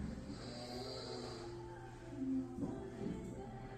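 A sleeper snores on a smart adjustable bed that raises itself when snoring is detected; the low, rasping breaths are faint and steady, swelling slightly near the end.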